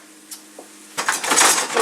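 Ladle scraping and clinking in a pot of pasta sauce, near and fairly loud, with a sizzling wash of sound rising after a quiet start.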